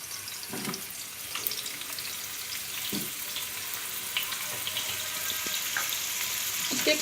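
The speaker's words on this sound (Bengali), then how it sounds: "আলুটা আমি একটু লবণ দিয়ে মেখে ভেজে নিচ্ছি।" Salted potatoes frying in a hot frying pan for shahi chicken korma, a soft continuous sizzle and crackle with occasional small pops and stirring clicks, fairly quiet and steady, no voices.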